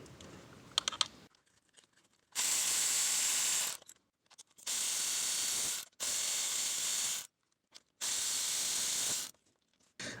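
A ratchet fitted with an E10 star socket works the water pump bolts on a Chevy Sonic, giving four loud, close bursts of rapid clicking separated by short pauses, with no talking.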